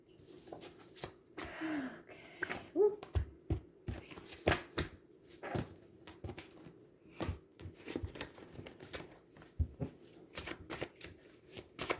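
Tarot cards are shuffled by hand in quick, irregular riffles and slaps, close and fairly quiet, continuing throughout with brief pauses.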